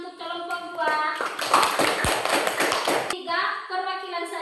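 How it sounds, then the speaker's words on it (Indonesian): Classroom applause for a student group: a burst of many hands clapping, loud and dense, between short stretches of children's and teacher's voices. "Tepuk tangan untuk kelompok 2"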